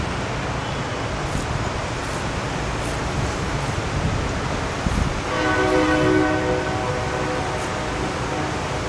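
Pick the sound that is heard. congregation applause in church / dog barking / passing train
passing train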